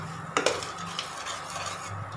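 Spoon scrapes and clinks against a pan as gram flour roasts in ghee, a soft low sizzle underneath with a couple of sharper metal knocks near the start.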